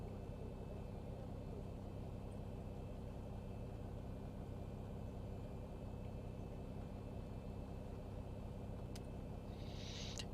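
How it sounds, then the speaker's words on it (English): Simulated Boeing 737 number 1 engine spooling up in the Zibo mod flight simulator, a steady low rumbling drone with a faint whine, continuous and even throughout with no talk. "Starting number 1 engine."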